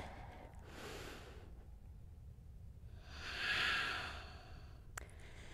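Slow, deep yoga breaths drift through a quiet studio during a flow class, a soft airy inhale followed by a longer, louder hissing exhale, faint and unhurried with no talking.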